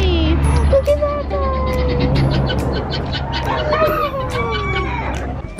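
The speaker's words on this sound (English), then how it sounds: "These little bantams." Small bantam chickens cluck and chatter up close on a farm, with squawks and a crow-like call rising over a low background murmur of voices.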